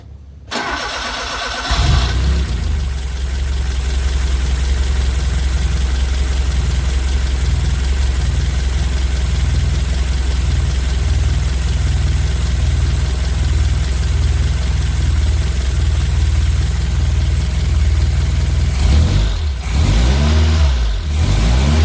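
A 1979 Fiat Spider 124 engine cranks briefly and catches, then runs loud and close with a steady, rough idle and some revving for about twenty seconds, settling into uneven throttle blips at the end, with no talking.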